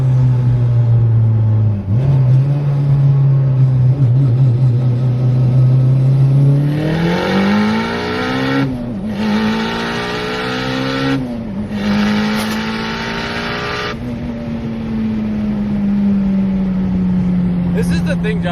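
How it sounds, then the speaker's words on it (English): A Mitsubishi Evo VIII running about 22 psi of boost does a brake-boost launch, heard up close from inside: a steady engine drone, then loud rising revs that climb in surges through several gear changes before settling into a strong pull. "I'm gonna do a brake boost."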